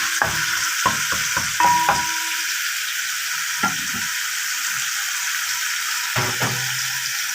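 Minced garlic sizzles steadily in a hot pan, with a run of sharp scraping stirs early on, a single scrape in the middle and a couple more near the end, all close and fairly loud with no talk.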